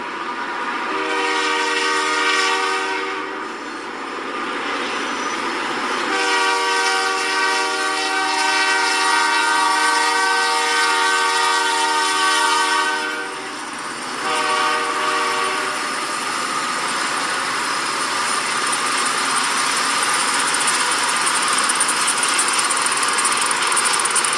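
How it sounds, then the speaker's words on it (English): Loud diesel freight locomotives working hard roar and throb steadily at close range, their deep engine drone rising and falling as the train passes. "You can really hear these engines working."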